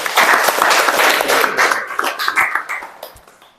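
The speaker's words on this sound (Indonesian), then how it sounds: "Kasih aplaus untuk si Abdul" Classroom applause for a student named Abdul, a short burst of many hands clapping together indoors, loud at first and then thinning out as it fades.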